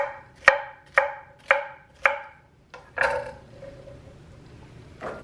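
A knife dices celery on a cutting board for a beef and ale stew, giving four evenly spaced crisp chops, a brief pause, then a couple more scattered cuts, close and clear with no talk.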